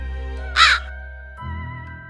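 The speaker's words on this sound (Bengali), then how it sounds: "ওই কাকটা কেন আমাদের দেখে এভাবে ডাকছে?" A crow in rural Bengal gives one loud, close, harsh caw, followed by a steady low background with no voices.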